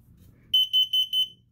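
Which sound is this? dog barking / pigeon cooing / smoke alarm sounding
smoke alarm sounding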